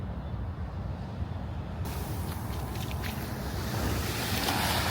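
Sea waves wash onto a hot sandy beach in Busan, Korea, a continuous surf hiss and rumble mixed with wind buffeting the microphone, swelling slightly louder toward the end.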